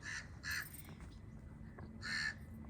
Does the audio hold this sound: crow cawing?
yes